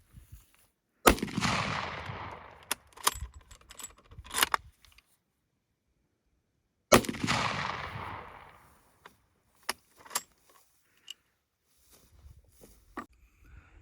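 Two loud, sharp rifle shots from a Zastava .375 H&H at an outdoor shooting range, spaced several seconds apart, each followed by a decaying echo and then faint clicks and handling noises.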